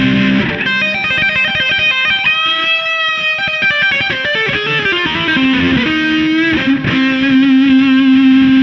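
Heavily distorted electric guitar played with the tone control fully open, giving a loud, bright, sustained run of notes and chords with no talking over it.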